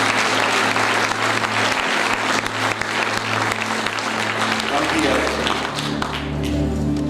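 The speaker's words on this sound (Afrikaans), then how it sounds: "Klap vir Jesus, gee hom al die eer" Church congregation applauding for Jesus, sustained loud clapping from a crowd filling the room throughout, with organ or keyboard tones and a voice underneath.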